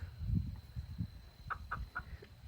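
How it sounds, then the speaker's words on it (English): Adult chickens in a backyard flock cluck softly in short, low bursts, followed by a few higher, clearer clucks, all fairly faint at a moderate distance. "3 of the adult chickens are hiding out over there"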